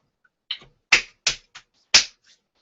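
Five or six sharp hand claps recorded one by one into a Skoog sampler, spaced unevenly and close to the microphone, with quiet gaps between them.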